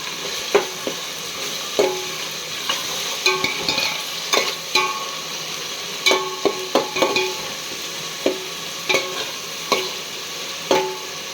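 Carrot and potato pieces are stirred in a frying pan with a spoon, giving repeated scraping clacks against the pan over a soft, steady sizzle, close and with no talking.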